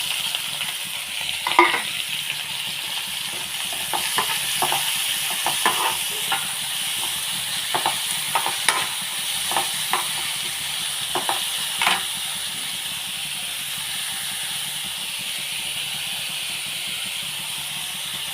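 Onions frying in a pan, a steady sizzling hiss running throughout with intermittent scraping clicks from stirring, close and moderately loud, no voices.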